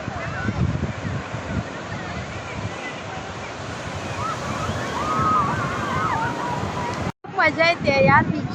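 Ocean waves breaking on a beach make a steady, loud surf roar mixed with wind buffeting. A voice rises near the end as the rush continues.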